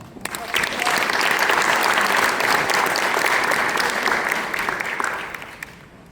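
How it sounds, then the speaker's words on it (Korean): A seated crowd at a regional council meeting claps in a loud, steady burst to welcome introduced delegates, building quickly, holding for several seconds, then tapering off. "큰 박수로 환영해 주시길 바라겠습니다"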